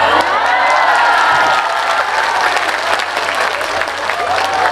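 Audience at a live religious lecture in Taiwan breaking into loud applause, a dense clapping wash mixed with some crowd cheering and voices, strongest at the start then settling slightly.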